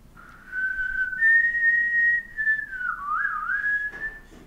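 A person whistles one steady, clear tone that holds for a few seconds, then bends down and back up before settling again, heard alone and close.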